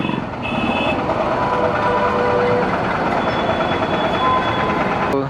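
A train rumbles steadily at a railway station in Davanagere, with a low mechanical drone and occasional high tones, heard amid street bustle.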